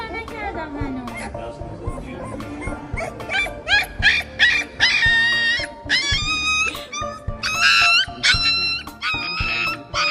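A puppy whimpers and yelps repeatedly at close range while receiving an injection at the vet, its high cries rising and falling over steady voices talking in the background.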